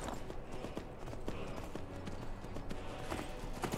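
Horse hooves clatter in a rapid, steady clip-clop rhythm while riding in Skyrim Dawnguard, continuous and moderately close over a dense background of game ambience.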